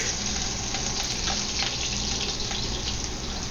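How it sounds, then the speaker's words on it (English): Garlic hits two tablespoons of hot cooking oil in a heated wok, producing a loud, dense, unbroken crackling sizzle close by for the whole moment, with no voices. "Okay, I have the wok out now. It's all heated. I'm going to add 2 tablespoons of cooking oil. I'm going to add the garlic."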